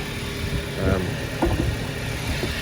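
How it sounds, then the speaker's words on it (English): A Fiat Grande Punto 1.2 car engine idles steadily with a low rumbling hum, close by, while a person talks over it. "the engine is running, and that was a success."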